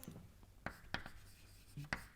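Chalk or marker strokes on a lecture board, a few sharp taps and short scrapes spaced irregularly, close but quiet in a still room.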